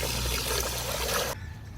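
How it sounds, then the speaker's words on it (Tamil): Water poured onto soaking biryani rice in a home kitchen, a steady close splashing trickle that stops abruptly, leaving a quiet room hum. "திரும்ப தண்ணி ஊற்றி ஊற வச்சிடலாம்"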